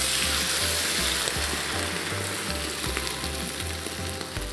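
Chicken stock simmering in a pot with chicken wings and bacon, a steady close bubbling and sizzling hiss that continues evenly throughout with no one speaking.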